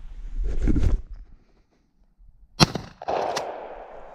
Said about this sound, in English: let's check my shotgun shot out first